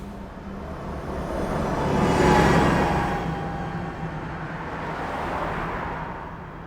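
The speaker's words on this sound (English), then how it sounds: "you can even see the car passing by in the energy visualizer" A car passes by, captured in a third order Ambisonics recording: a broadband roadway rush that swells to a peak around the middle, then recedes into a steady low hum, with no talk.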